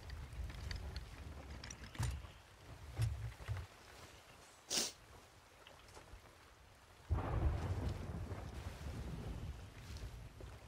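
A thunderstorm in the pirate game Sea of Thieves, with rain and wind hissing steadily and thunder cracking sharply, then a long rumbling roll, loud but somewhat distant.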